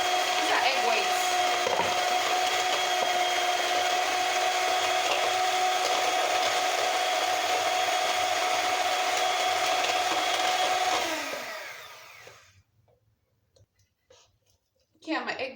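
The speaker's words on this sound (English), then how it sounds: "So I'm whisking or beating the egg whites." Egg whites whisked by hand or mixer in a home kitchen, a steady close whirring rasp that runs continuously for about eleven seconds, then stops abruptly into near silence.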